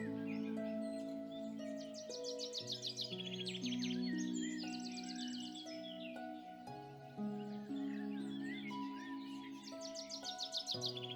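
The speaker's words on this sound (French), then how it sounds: "Vous entendez des oiseaux. La nature s'est réveillée." Birds sing outdoors at dawn over a sustained soft musical tone, giving a steady stream of chirps and trills that returns in bursts across the passage at moderate distance.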